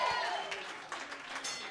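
Faint, distant audience applause at a live comedy show, a soft scattered clatter of hands that stays low and steady with a few sharper claps near the end.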